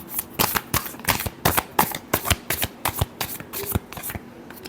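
Tarot cards are shuffled by hand in a series of quick, crisp riffling bursts separated by short pauses, close and clear with nothing else around them.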